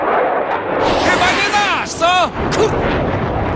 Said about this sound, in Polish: Odrzutowiec!